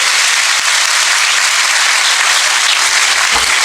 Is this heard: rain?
no